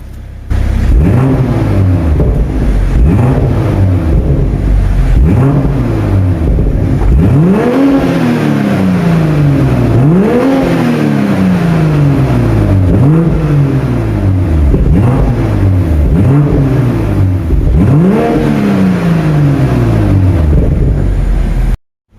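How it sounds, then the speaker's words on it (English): A 2022 BMW M240i xDrive Coupe exhaust revs repeatedly in Sport Plus mode, about eight sharp rises and falls in engine pitch, loud and close, with a steady idle rumble between blips. "Let's hear that exhaust warmed up in Sport Plus."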